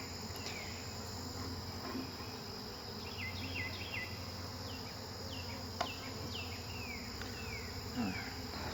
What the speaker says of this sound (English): Thousands of little stinging insects.